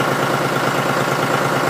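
A John Deere 5103 diesel tractor idles steadily while warming up after a very cold start, its low engine rumble continuous, loud and close with no talk.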